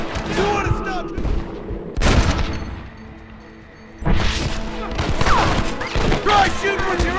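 Repeated gunfire in a Red Dead Redemption battle, with loud clustered volleys, a brief lull, then another heavy burst, mixed with shouting voices and game battle noise.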